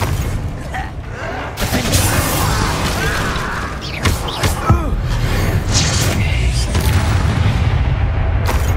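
A Confringo blast spell explodes with a loud booming hit amid the dense, layered combat sounds of a Hogwarts Legacy battle, with more impacts and rumbling carrying on steadily afterward.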